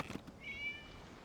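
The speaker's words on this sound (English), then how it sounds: "It was just a cat." A single short, thin meow from a cat, faint and somewhat distant, preceded by a few soft bumps.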